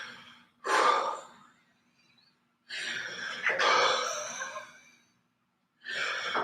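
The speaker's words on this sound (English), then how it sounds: "It doesn't have to be loud. You're just breathing." Deep, forceful exhales from a breathing exercise, three long rushing breaths close to the microphone separated by silent pauses.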